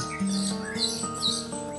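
An orange-headed thrush (anis merah) kept as a cage bird gives short squawking calls and chirps, close and moderately loud, over a steady background hum.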